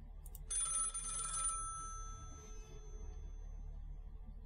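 A telephone rings once in the horror video game Nightmare Frames, a bright electronic trill lasting about a second, then fading into a low ambient hum that continues to the end.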